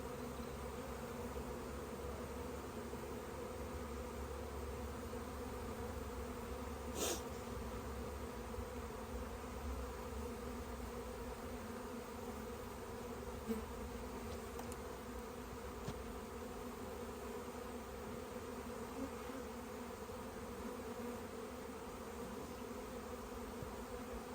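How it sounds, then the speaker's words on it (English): Bees buzz in the open air around their hives, making a steady, even drone that carries across the scene with no voices. "There's not as many bees airborne right now, looking out 20, 30 feet."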